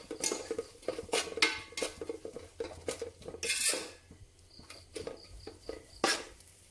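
Kothu parotta ingredients being mixed in a pan, with repeated metal-on-metal clanks and scrapes from utensils at an irregular, close rhythm and short sizzling bursts between.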